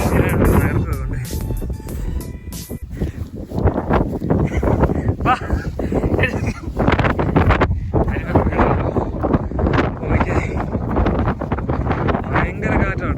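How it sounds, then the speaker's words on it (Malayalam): Strong wind buffets the microphone along a hillside trekking trail at Vagamon, a loud continuous roar of gusts rising and falling throughout, with people talking over it. "ഭയങ്കര കാറ്റാട്ടോ, ഒരു രക്ഷയുടെ കാറ്റ്."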